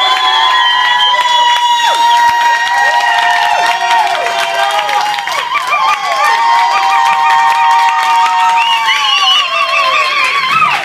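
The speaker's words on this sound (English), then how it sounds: "Give a round of applause." A concert crowd at a band's benefit show for Venezuela cheers and whoops loudly with applause underneath, shrill whistles and shouted voices rising and falling continuously over a dense, close wall of noise.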